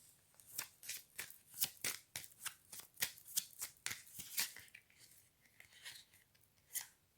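Tarot cards are shuffled and handled in quick, irregular bursts of crisp riffling and slapping, close and fairly loud, with brief pauses between strokes and no talking.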